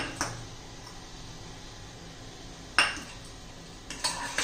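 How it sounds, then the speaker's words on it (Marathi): A spoon whisks seasoned curd with black salt and chilli in a bowl for fasting dahi vada; a few sharp clinks against the bowl stand out over a quiet background. "हे सगळं आपण चांगलं व्यवस्थित असं फेटून घेऊया।"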